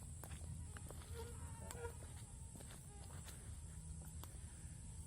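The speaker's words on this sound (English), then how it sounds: "all the mosquitoes are finding me" Mosquitoes and other insects buzzing outdoors in a field, a faint steady whine over a low rumbling background with scattered soft rustles and clicks.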